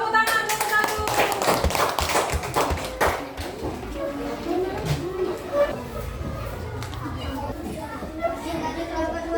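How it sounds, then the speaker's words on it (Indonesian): Children in a classroom clap in quick rhythmic bursts after a group presentation, sharp close hand taps that thin out into chatter and young voices. "Tepuk tangan untuk 1."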